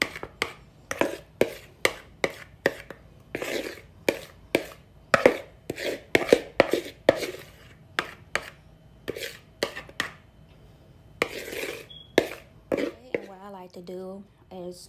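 A spoon scrapes leftover Oreo bundt cake batter out of a mixing bowl in a home kitchen, giving a rapid run of sharp, close scraping and tapping strokes, with brief pauses and a voice near the end.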